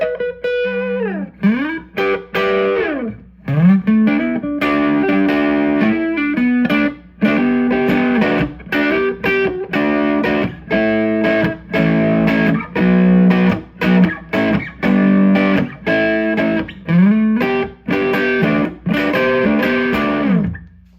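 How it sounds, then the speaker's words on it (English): A 1996 Gibson ES-175 hollow-body electric guitar with P-90 pickups is played through distortion, strummed chords and riffs ringing loud and continuous with brief pauses between phrases, no voices. "So again, going back and just getting distortion, I like this neck pickup sound too."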